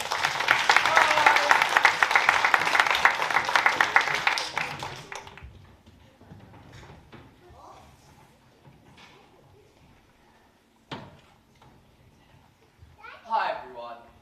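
A school assembly audience of children breaks into loud, dense applause that fills the first five seconds, then fades to scattered claps, murmurs and a few taps, with children's voices chattering faintly afterward.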